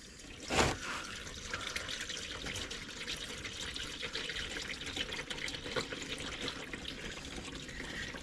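Motor oil draining from an engine into a drain pan, a steady trickling pour with a brief splash near the start, soft and continuous without talk.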